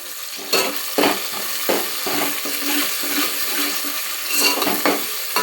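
Crushed green chilli and curry leaf paste hits hot oil and is stirred, giving a close sizzle broken by repeated scraping spoon strokes in a loose rhythm, with no talk.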